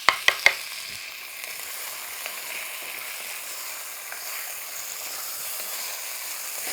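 Onion sizzles and hisses steadily in a hot pan for ragu napoletano, opening with a few sharp clinks of a utensil against the pan before the continuous frying crackle carries on alone.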